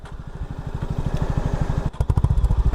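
A motorcycle engine turns over and fires after the key is switched on, chugging in a steady pulsing beat that builds, then settles into a louder, rougher throbbing idle near the end.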